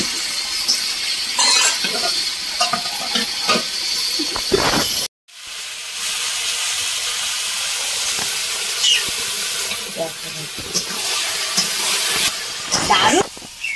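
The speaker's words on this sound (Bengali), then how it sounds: "এই দেখো কত সুন্দর সিদ্ধ হচ্ছে" A pot of ash gourd with shrimp cooks at a boil, giving a steady broad hiss of steam and bubbling throughout, broken by a brief dropout, while people talk over it.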